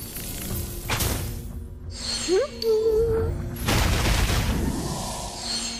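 Fireworks in the Reverse 1999 video game burst and crackle loudly in several bursts, with a rising whistle between them and shimmering sparkle around them.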